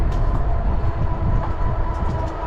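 Train at a station platform, a loud continuous rumble of rolling wagons and machinery heard close by, steady throughout without a break.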